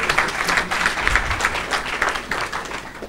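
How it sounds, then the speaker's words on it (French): Audience applause at a university conference, a dense, steady patter of many hands clapping for about three seconds, fairly loud and close with no speech over it. "Je pense qu'il faut nous applaudir, nous tous."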